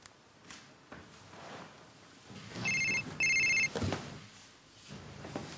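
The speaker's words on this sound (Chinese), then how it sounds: "你给小冷打个电话问问" A telephone rings in two loud bursts of bright electronic trilling in the middle of an indoor scene, with quiet rustling and soft room sounds before and after.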